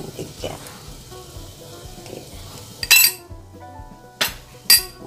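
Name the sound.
stirring batter in a bowl with a utensil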